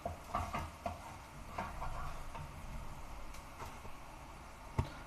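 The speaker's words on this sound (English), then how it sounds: "Keep stirring the onions." Onions browning in a pan crackle in a soft, steady sizzle while a spoon stirs them, giving faint scraping taps and one sharper knock near the end, with no voices.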